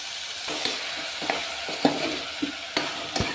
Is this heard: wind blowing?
no